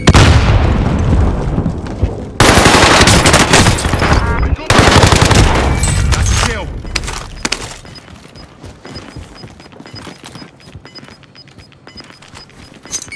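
Dense, loud gunfire and explosions from a Call of Duty: Modern Warfare match as a frag grenade is thrown, with heavy machine-gun bursts and booms over the first seven seconds, then thinning to scattered distant shots.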